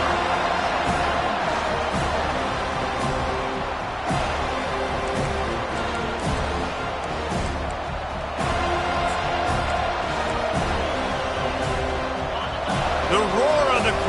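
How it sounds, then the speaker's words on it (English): A football stadium crowd roars steadily as the home defense keeps the opponent pinned deep in their own end, a dense, continuous wall of cheering noise heard under a commentator's talk. "The roar of the crowd trying to fuel this defense to keep them pinned in their own end."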